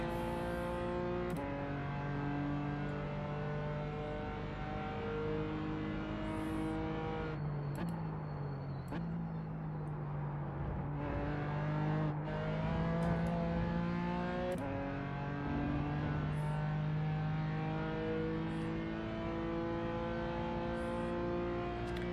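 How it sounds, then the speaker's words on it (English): A race car engine in the iRacing sim drones steadily with layered harmonic tones, shifting pitch through gear changes as a faster-class car approaches, with a brief dip and roar midway and no talking. "there's a faster class car approaching"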